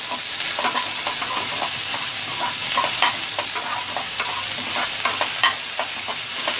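Onions and green chillies fry in a pan with a steady, close sizzle, punctuated throughout by scraping stirs and light clicks of a utensil against the pan.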